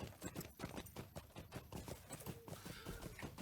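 Horse hooves clip-clop steadily in a fantasy role-playing video game, a quick, even rhythm of hoofbeats up close that carries on throughout with no talk over it.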